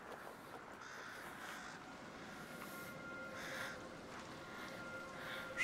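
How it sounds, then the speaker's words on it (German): Crows caw in the video game A Plague Tale: Requiem, several calls spread over a steady ambient game soundscape, fairly faint and without speech. "Hey, Krähen!"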